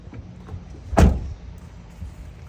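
An RV door on a Mercedes-Benz Sprinter-based rig is shut once with a single solid thud that rings briefly and fades into quiet outdoor ambience.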